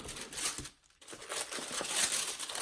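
A plastic bag holding Gucci interlocking black tights crinkles and rustles close by during an unboxing, in irregular bursts with a short pause partway through.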